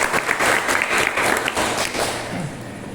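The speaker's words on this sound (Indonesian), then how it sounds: "tepuk tangan buat kita semua." Warm applause from students in a classroom after a cooperative learning activity, steady clapping up close that fades out toward the end.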